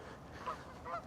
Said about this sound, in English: These are some big old geese.